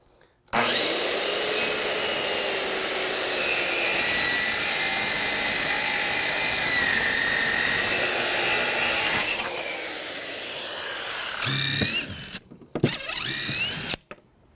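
A power saw cuts through lumber for a shed, one loud sustained whine running about nine seconds close by, then fading to a lower rumble, followed by a few short bursts of the saw near the end.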